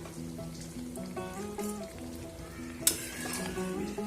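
Capsicum stirred into a simmering soybean curry gives a soft, close sizzle with light scraping stirs and a sharp spoon clink near the end, no talk.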